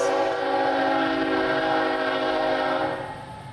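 A train rolls along a track just behind a wall at a ranch property near Los Angeles, a loud sustained rumble with tonal horn-like layers that fades slightly at the end, no talking.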